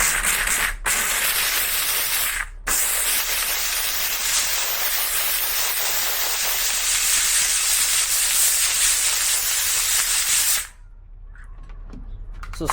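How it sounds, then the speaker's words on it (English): A steamer hisses loudly and continuously while protective film is removed from a BMW M4, with two brief breaks, then cuts off, leaving faint scraping and rustling. "So steam is very good for taking PPF off."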